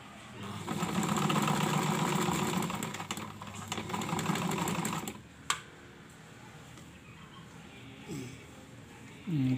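A portable sewing machine with loose bobbin thread runs in a steady whirring, rattling burst for about five seconds, then stops; faint clicks and a few brief voices follow.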